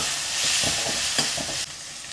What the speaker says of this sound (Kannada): ಇಷ್ಟು ಎಣ್ಣೆಯಲ್ಲಿ ಚೆನ್ನಾಗಿ ಫ್ರೈ ಮಾಡೋಣ.